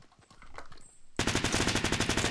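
An automatic rifle fires in the Fortnite Battle Royale video game. A few scattered shots come first, then a loud, rapid burst of evenly spaced rounds rings out close up, with no voices over it.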